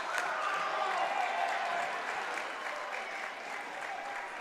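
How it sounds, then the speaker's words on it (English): Basketball crowd applauding from the stands during a boys' high school game, dense steady clapping that fills the whole stretch with crowd noise, loud and continuous with no clear talk over it. "They're standing, they're clapping, trying to distract Mansfield."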